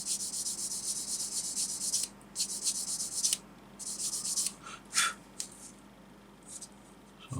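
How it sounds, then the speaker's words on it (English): A sanding stick rubs gently over a small plastic model kit part for an ICM Model T ambulance, soft raspy strokes in several short bursts with pauses between, close and quiet. "Just very gently sand it away."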